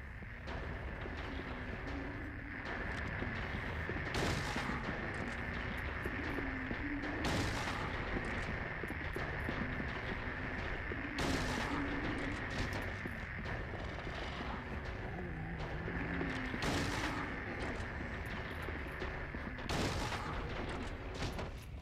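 Shotgun blasts in the survival horror game Silent Hill 3, several loud booming shots spaced a few seconds apart over a dense, droning game soundscape, with no talking.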